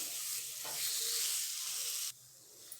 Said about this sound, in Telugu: ఇలాగైతే మనం బాగా వేయించుకోవాలండి